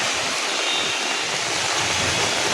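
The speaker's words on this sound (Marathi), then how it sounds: "जोरदार पाऊस आहे." Torrential rain outside Churchgate station, Mumbai, roars as a dense, unbroken wash of noise, loud and close, with no voices.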